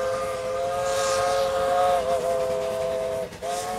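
A Chinese QJ steam locomotive hauling a train on the Iowa Interstate Railroad sounds a long, sustained chime-like whistle, steady and prominent with a brief dip before resuming.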